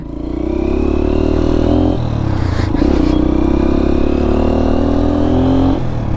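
An adventure motorcycle engine running loud and close in Nepal, a steady revving drone with a shift in pitch around the two-second mark and a brief dip near the end, with no talk.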